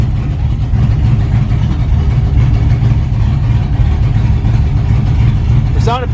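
An LS-swapped S10 drag truck idles steadily at 800 rpm, a loud, close, continuous low rumble with a brief higher blip near the end.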